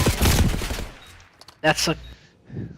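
Gunfire from a Call of Duty Black Ops 6 match, a rapid burst of automatic shots followed by a few sharp separate cracks, close and loud, with a commentator talking between them.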